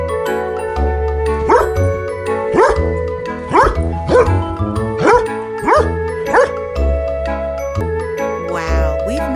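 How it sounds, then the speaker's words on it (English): A dog barks in a steady series of about eight loud, close, evenly spaced barks over a background of music. "Can you bark like a dog?"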